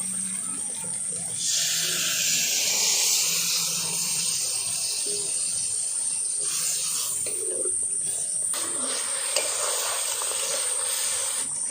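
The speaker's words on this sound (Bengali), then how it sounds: "এবার এর মধ্যে নারকেলের দুধ দিয়ে দেব" Coconut milk poured into sizzling mustard masala in a pan gives a continuous loud hiss and bubbling sizzle with some stirring, for a prawn malai curry.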